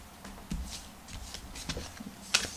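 Tarot cards shuffled by hand for a Cancer reading, giving soft papery riffles and rubbing with a few sharper slaps. Close and quiet, with no talking.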